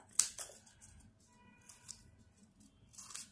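Scissors snipping off the edge of folded paper for a small handmade notebook, a few close, crisp cuts and rustles spaced out over a few seconds, with quiet handling in between.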